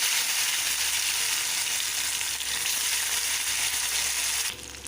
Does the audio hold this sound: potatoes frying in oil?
yes